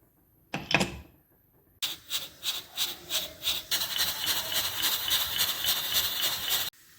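A pressure cooker of mutton paya lets out a short burst of steam, then hisses in rapid pulsing puffs that merge into a steady, fairly quiet rushing stream that stops abruptly.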